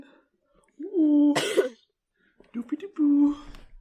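A sick person coughs twice, close to the microphone: a short harsh cough burst in the middle and a second rougher cough near the end, each set between brief voiced throat sounds and quiet pauses.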